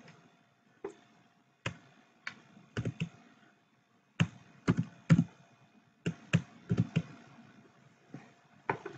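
HTML being typed on a computer keyboard, sparse crisp keystrokes in short irregular bursts with pauses between, close and fairly quiet, no talking.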